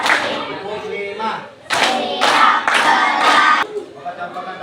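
Participants in a coding teacher training session clap hands in a counted sequence, a run of four or five loud, close bursts in quick succession, with people talking before and after.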